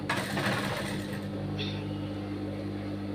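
A sewing machine stitches a blouse in a steady, continuous whir that runs without a break, close and fairly loud with no voices over it.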